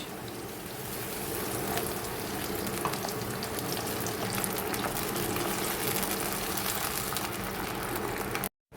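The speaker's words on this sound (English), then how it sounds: "I'm going to add a little bit of water in it." Steady sizzling and frying in a pot as water is added to frying tomatoes, with a soft bubbling hiss as liquid hits the hot food, continuous and close, ending abruptly.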